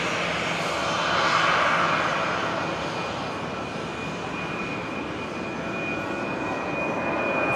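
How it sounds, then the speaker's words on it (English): A Rolls-Royce engine on a Fokker airliner spools up for an engine run-up at Brisbane International Airport, a steady broad roar with a sustained high whine, heard from a distance at moderate loudness. "we're listening to the Rolls Royce on the Fokker there"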